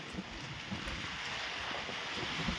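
Strong gusting wind roars steadily during a hailstorm near Aramda village by Mithapur in Dwarka, a loud broadband rush that buffets the microphone with no voices.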